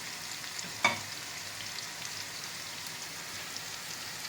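Steady, crackling sizzle of mushrooms and egg frying in a pan, with one brief clink near the start; no voices.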